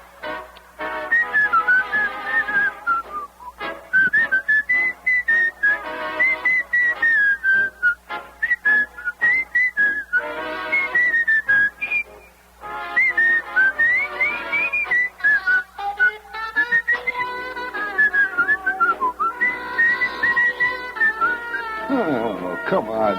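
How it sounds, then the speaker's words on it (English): A person whistles a wandering tune in sustained, wavering notes, broken into phrases with short pauses, close and clear. "Try whistling this."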